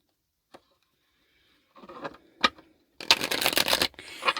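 Tarot cards being shuffled by hand in a quiet room, starting with a few soft isolated riffles and taps, then building into a dense, continuous run of rapid card shuffling near the microphone.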